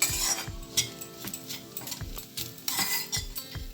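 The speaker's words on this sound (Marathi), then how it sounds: "आता हे मी छान परतून घेते" Dried coconut is sautéed in a pan, giving a close, rhythmic scraping and tapping of a spatula against the metal over a soft sizzle. No voice is heard.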